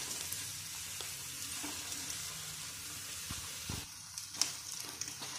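Schezwan Hakka noodles with Schezwan chutney and tomato ketchup are tossed in a hot pan, giving a continuous soft sizzle with occasional scrapes and knocks of a utensil against the pan.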